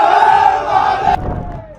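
A crowd gathered outside a gate chants and shouts slogans loudly and continuously, a dense mass of raised voices that suddenly drops to a lower, rumbling crowd noise partway through.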